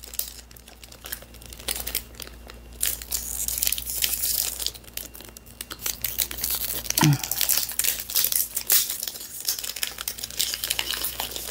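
Hard plastic wrap on a perfume box crinkles and crackles loudly and close up as someone struggles to tear it open, with dense irregular rustling throughout and a brief voice partway through.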